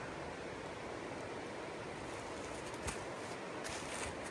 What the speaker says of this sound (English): All right, we made it to the creek crossing.